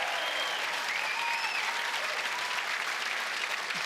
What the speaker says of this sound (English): Give Cody Simpson a big round of applause.